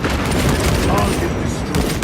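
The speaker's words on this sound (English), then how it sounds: "Frag grenade deployed." A frag grenade goes off in a video game as a loud, dense blast amid continuous crackling gunfire, with booming low rumble across the whole short burst and no gap of quiet.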